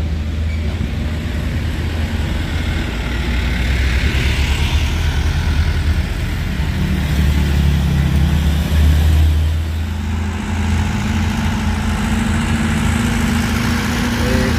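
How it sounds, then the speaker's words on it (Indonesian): Heavy afternoon road traffic rumbles past steadily, with deep engine drone and tyre noise from passing cars, trucks and trailers, loud and continuous throughout with no talking. "Rame kendaraan bosku. Sama yang melintas di sore ini ya bosku ya."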